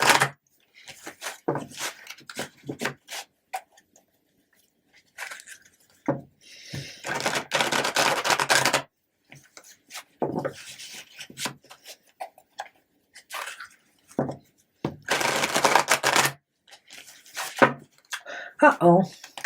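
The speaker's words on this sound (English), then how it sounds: "I'm going to shuffle it one more time for you Cancerians." Tarot cards are shuffled by hand in close bursts of dry riffling, tapping and flicking clicks, with short pauses between the bursts.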